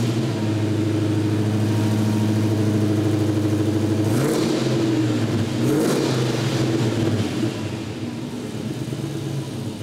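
Classic 1969 Dodge Charger fitted with a Hellcat engine, a deep steady exhaust rumble close by that swells into a rev midway, then settles back to a lower idle.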